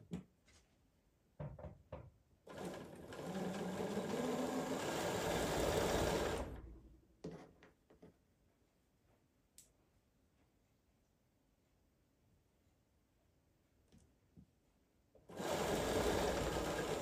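A sewing machine stitches quilt block pieces for half-square triangles in two loud, steady whirring runs of about four seconds and two seconds, with quiet handling noises and clicks between them.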